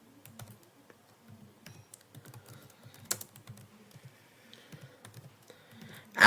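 Quiet, steady keystrokes on a computer keyboard as a machine name is typed into VirtualBox, a run of small soft taps over about six seconds ending in a louder click, with no talking.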